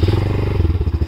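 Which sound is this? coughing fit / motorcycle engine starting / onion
motorcycle engine starting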